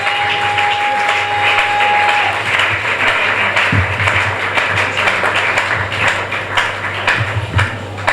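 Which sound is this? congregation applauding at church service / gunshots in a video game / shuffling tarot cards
congregation applauding at church service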